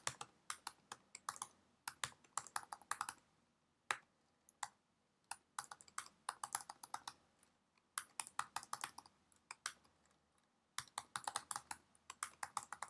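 Fast clicking of a computer keyboard as someone types commands in a terminal, in quick close bursts of keystrokes separated by short pauses, clear and alone.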